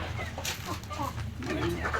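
Fayoumi and black-and-white spotted chickens cluck softly and intermittently at close range over a low background hum.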